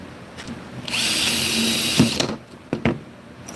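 Rivets installed on a solar screen frame with a power riveting tool, a loud whirring burst of a second or so followed by sharp clicks and snaps as the rivet sets, close by.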